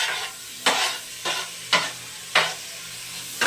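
Peas and tomato sizzle in a hot pan while a spoon stirs them in four or five sharp scraping strokes at a steady pace, heard up close with no voices.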